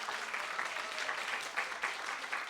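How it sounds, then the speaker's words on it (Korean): A church congregation applauds in blessing and welcome during a Sunday worship service, a steady, fairly faint wash of clapping heard at a distance throughout. "박수로 축복하고 환영합니다"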